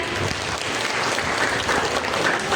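Audience applause at a parenting seminar in a crowded hall, welcoming the student MCs: a dense, steady wash of many hands clapping at close range, sustained evenly throughout with no speech over it.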